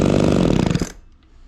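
An Echo 280e chainsaw revs loudly with the choke on during a starting attempt, a rough pulsing engine roar that cuts off abruptly just before one second, leaving near silence.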